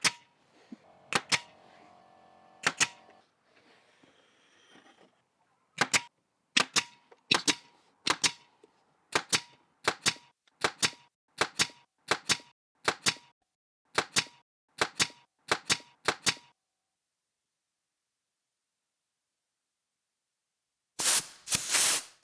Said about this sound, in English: We'll set our first point up, and let's start nailing.